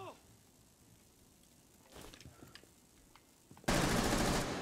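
Rapid automatic gunfire in Rainbow Six Siege, firing through a wall, erupting loud and sustained at the end after quieter footsteps and handling noises.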